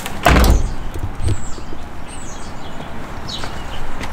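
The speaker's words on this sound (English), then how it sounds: "Close the door." A Nissan S13 coupe's door thuds shut with one loud, close impact near the start, followed by faint movement and rustling outdoors with no talking.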